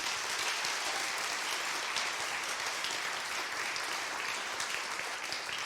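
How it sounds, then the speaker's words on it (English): A sustained round of applause from an audience at a county special-education awards ceremony honoring nominees, dense, even clapping that holds steady throughout with no talk over it. "If we can have a round of applause for our nominees."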